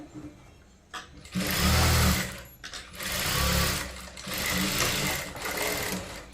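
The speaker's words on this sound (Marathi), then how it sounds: "ही आपली फायनल शिलाई आहे" A sewing machine runs the final seam of a blouse fitting in three close bursts of stitching separated by brief pauses, loud and mechanical with no talking.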